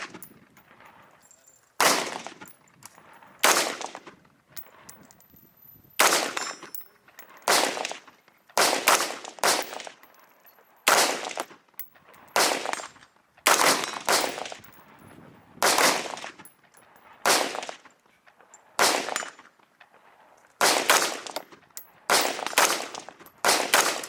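Repeated loud, close bursts of fully automatic fire from a Colt M4A1 rifle, each volley a few seconds long and separated by brief gaps, about a dozen strings in all.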